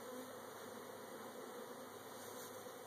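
Honeybees buzz around a hive after a comb cutout, a steady, dense, continuous hum from many bees close by, with no voices.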